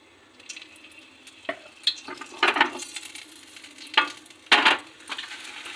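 Aloo paratha fries in a little refined oil on a pan, soft sizzling underneath a series of intermittent scraping and clinking bursts from turning and pressing.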